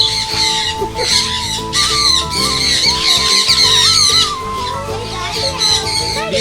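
Large parrots at a mini zoo squawk and screech in loud, overlapping bursts as two of them squabble, with raucous calls filling the whole stretch close by.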